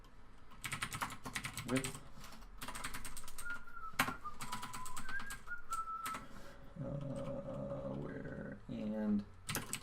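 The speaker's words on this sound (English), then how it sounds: "Let me just type this out" Computer keyboard typing while writing code for a Frogger clone game, bursts of quick close key clicks separated by pauses, with someone speaking and a brief whistled tune in between.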